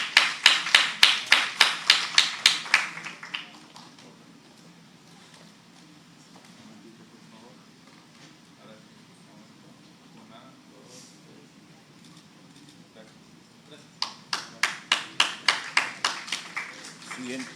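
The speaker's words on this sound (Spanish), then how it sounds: "Un aplauso, por favor." A small conference audience gives two brief bursts of clapping during a diploma presentation, rhythmic and close at the start and again near the end, with a long quiet stretch of faint room sound between.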